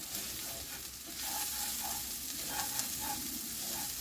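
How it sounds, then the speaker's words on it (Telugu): Red long beans stir-frying with sesame and peanut powder in a hot pan, a steady sizzle with rhythmic scrapes and stirring taps throughout, no talking. "కొద్దిగా ఇలా కలుపుతూ వేపండి"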